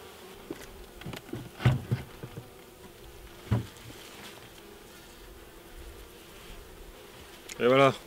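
Honey bees buzz around a hive super cleared with a bee escape, a thin scatter of close individual passes and brief buzzes over a quiet background, with one louder fly-by at the end.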